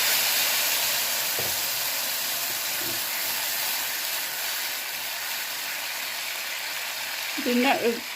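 Dried red chillies sizzle in hot oil as a tempering for drumstick mustard curry, a steady loud frying hiss throughout with a brief burst of bubbling near the end.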